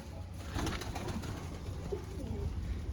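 Pigeons cooing in a coop, a steady soft murmur of overlapping coos close by, continuing without pause over a low background rumble.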